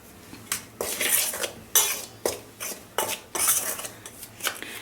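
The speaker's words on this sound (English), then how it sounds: "Now into the flour, I'm going to add in the baking powder and the spices. I'm going to just mix it." Flour, baking powder and spices being mixed in a bowl for a whole wheat plum cake, a series of about ten sharp scraping, clinking spoon strokes against the bowl in a steady rhythm, close and fairly loud with no speech.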